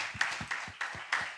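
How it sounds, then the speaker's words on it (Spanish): Scattered claps ring out for a few moments, a small group applauding unevenly at a church leadership panel. "Un fuerte aplauso, por favor."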